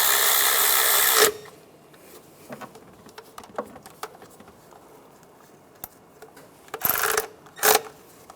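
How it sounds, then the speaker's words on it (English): Bracket bolts being tightened on the engine of a 1996-2002 Toyota 4Runner during a knock sensor replacement: a loud burst of rapid ratcheting, then scattered clicks and taps, followed by two more short ratchet bursts. "Now these two bolts for the bracket. Tighten those down."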